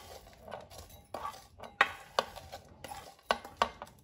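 Crunchy fried beetroot being stirred in a bowl, with scattered sharp scraping and clinking strikes at an irregular pace, close and fairly quiet.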